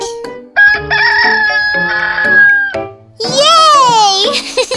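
A cartoon hen cries out in a children's Aesop fable about a milkmaid, heard as a loud, close, sustained tonal call that breaks into a wavering, warbling crow-like squawk over a bright musical backdrop.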